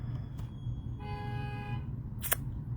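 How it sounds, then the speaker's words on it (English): A car horn honks briefly from outside, a faint muffled tone lasting under a second amid a quiet room, followed by a short sharp click. "just somebody honked outside"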